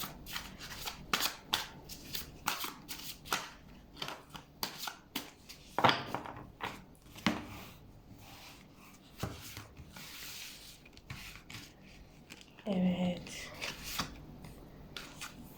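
Tarot cards being shuffled and handled during a reading, giving a run of soft papery riffles, rubs and brief slaps that come and go over the whole stretch, close and fairly quiet, with no talk.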